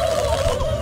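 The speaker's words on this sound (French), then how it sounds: "tu vois des espèces de dindons qui arrivent et qui popent d'un peu partout" Turkeys gobble in the South Park video game, a brief wavering warble held steadily under a dense game soundscape with low rumbling noise beneath.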